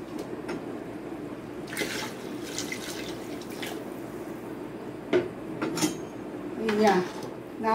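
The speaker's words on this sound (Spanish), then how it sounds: "Le voy a agregar otro poquito de agua." Water is added to a pot of beans cooking with beef backbone in a home kitchen, with splashes and pours plus clinks of pot and utensils, some louder bursts near the end and a faint voice.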